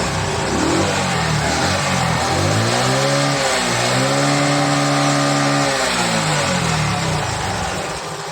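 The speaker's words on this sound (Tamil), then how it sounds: "இப்போ மாற்றிட்டு வண்டி ஸ்டார்ட் பண்ணி பார்க்குறோம்." A TVS XL100 moped engine with an ECU warning fault fires up and runs close by, a steady buzzing putter that swells through a couple of small revs and then settles, with no talking.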